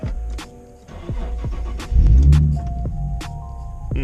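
A Nissan 370Z engine hums inside the cabin, a low steady drone that swells into a deeper throb midway, heard close with a few faint clicks over it.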